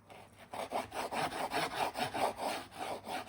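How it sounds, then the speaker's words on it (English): A knife saws through crispy fried flatbread, giving a steady run of rasping, crunchy strokes in a quick regular rhythm, close and fairly quiet. "Hear that crispy cut."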